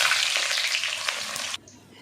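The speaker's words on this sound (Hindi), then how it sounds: "घी हमारा गर्म हो गया। अब हम इसमें डालेंगे प्याज।" Chopped onions fry in hot ghee in a pot for a gosht curry, giving a loud, steady, close sizzle that cuts off abruptly near the end, leaving faint quiet.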